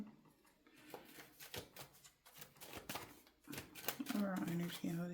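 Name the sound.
shuffling tarot cards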